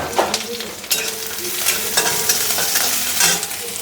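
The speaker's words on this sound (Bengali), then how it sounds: "আমি তাদের জন্য একটা বাদাম ভাজা করি, ঘি দিয়ে দিলাম হচ্ছে কারি পাতা।" Peanuts fry in ghee with curry leaves and are stirred in a pan, a steady close sizzle broken by repeated scraping strokes of the spoon.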